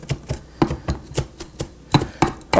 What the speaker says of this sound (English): really just chop it all up